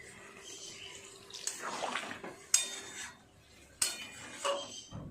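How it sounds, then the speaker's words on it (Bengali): Water is poured into a pan of potato, pointed gourd and pumpkin, giving short splashing bursts with clinks of a utensil against the metal pan. The sounds are close and fairly quiet, with gaps between them. "আরও অল্প একটু জল দিয়ে দেব"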